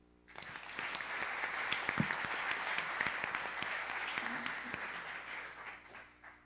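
Audience applause at an academic round-table colloquium, a steady dense wash of many hands clapping that swells quickly and holds evenly for several seconds before tapering at the end.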